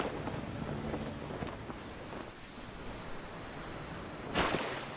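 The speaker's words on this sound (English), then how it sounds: "All the water that used to be here has turned into rain!" Rain and rolling thunder in the video game Genshin Impact, a steady broadband wash of rainfall with a low rumble, brightening into a louder burst near the end, with no talking.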